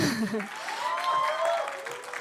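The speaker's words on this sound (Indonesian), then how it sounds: "Tepuk tangan lagi yang keras." Audience at a phone launch event applauding loudly, a dense wash of clapping with a voice speaking over it throughout.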